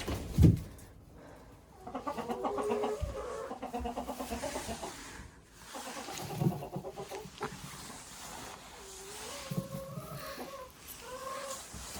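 Guinea fowl call outdoors around a farm roost on a snowy day, a series of harsh, chattering cries that rise and fall in bursts, fairly close, with a thump at the start and no talking.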